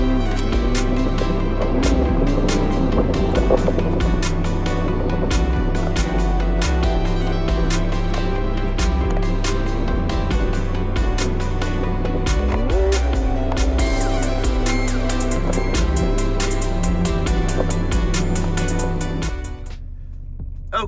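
A car being driven, with a steady low engine and road rumble that runs throughout at a constant level, overlaid with tonal background sound, and cuts off abruptly near the end.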